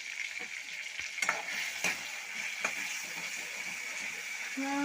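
A gravy vegetable dish is stirred and sautéed in a home kitchen pan, with a steady sizzle and the spoon scraping and clinking against the pan a few times.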